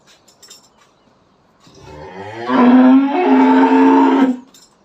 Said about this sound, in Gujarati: હવે હું બીજી લાલી ગાય દવા બેહી જાઉં છું.